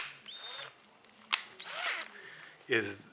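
A drill enlarging a hole to fit a brass bushing during a BMY rebuild; a short, rising electric whine sounds twice, with voices and clatter around it.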